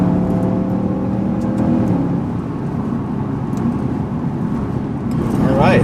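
A Lexus IS F with a Borla exhaust drones steadily, its engine a loud, continuous low rumble that rises slightly near the end, with faint voices underneath.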